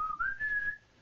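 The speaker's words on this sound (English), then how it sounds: "I can whistle." A single person whistles one sustained, rising tone that holds steady for most of a second before breaking off, close and clear with nothing else heard.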